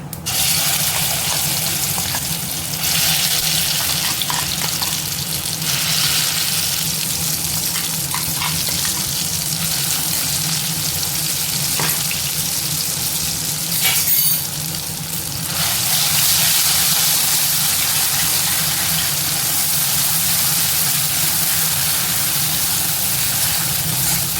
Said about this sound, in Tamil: நல்லா சுண்ட வதக்கிக்கணுங்க.